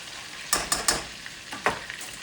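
Hamburger steak patties fry in a pan, a steady close sizzle broken by a few sharp bursts as they are stirred or shifted, with no voices.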